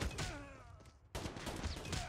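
Submachine-gun fire in a Call of Duty shooter, loud continuous bursts of rapid shots packed close together, with a brief break about halfway before the firing picks up again at the same intensity.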